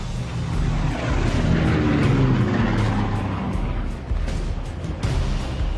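Allied WWII warplanes fly overhead, a continuous loud engine roar with a swelling, passing quality and a few sharp thumps.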